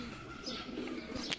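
Pigeons cooing at a loft during a pigeon sale in Lahore, soft low coos heard faintly beneath background noise, with a brief flutter near the end.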